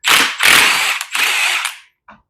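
A socket wrench with a 22 mm socket ratchets on the clutch nut of a Yamaha PW80 dirt bike, three loud, close bursts of rapid clicking followed by a short faint click.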